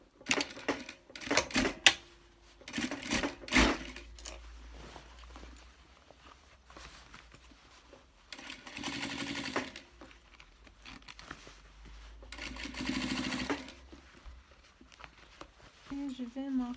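A sewing machine stitches a trouser zipper in short rapid bursts, some ticking and stopping, with handling and rustling between runs and someone speaking at times.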